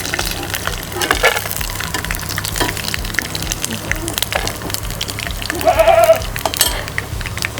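Goats bleat around a home, making a brief, moderately loud call that rises out of a busy background of kitchen noise and faint household sounds. The call comes near the end, with no clear talking.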